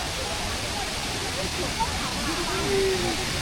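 A low waterfall at a crowded tourist spot in northern Laos gives off a steady broadband rush of falling water, close and constant, with a voice faintly audible underneath.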